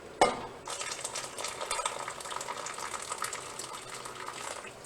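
Soup stock pours through a strainer with a steady, close splashing gush that starts with a sharp onset and runs continuously.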